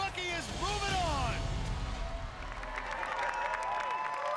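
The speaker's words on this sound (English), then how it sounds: "Well, you can hear the crowd, and that ovation is for a fan favorite, Lance Pekus, the Cowboy Ninja." A large arena crowd at a Sasuke American ninja obstacle competition applauds and cheers in a steady, dense ovation for a fan favorite, with an announcer's voice talking over the roar throughout.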